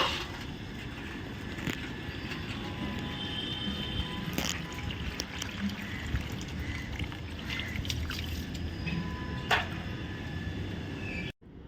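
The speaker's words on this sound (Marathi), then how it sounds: "नळाला आलंय पाणी. तर आम्ही आता इथं भरतीये पाणी" Water filling a container from a household tap during the rainy season, a constant close gushing stream running throughout with a few sharp knocks and clinks, no talk.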